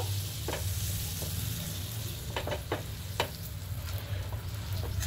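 Chicken burger buns toasting in butter on a pan, a continuous soft sizzle with a few light scraping clicks, close up and steady with no speech.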